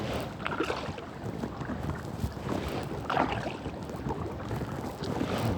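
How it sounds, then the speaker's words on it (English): Wind buffets a kayak paddled along a canal, a steady gusty rush with some microphone noise and light water sounds from the paddling, with no talk. "the wind's against me now, making it a little bit harder"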